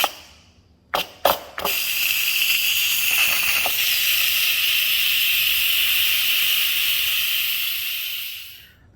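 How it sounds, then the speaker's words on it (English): An Instant Pot is quick-released: after a couple of sharp clicks, a loud, bright steam hiss bursts out and holds steady for several seconds, then slowly fades out near the end. "So I'm going to do a quick release carefully."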